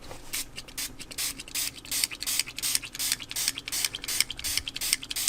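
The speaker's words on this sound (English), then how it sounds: "Naturally, I want to just keep spraying it" A handheld spray bottle filled with water and vegetable glycerin mists onto watercolor paper, giving a quick series of close, sharp hissing bursts in an irregular rhythm, about a dozen squirts.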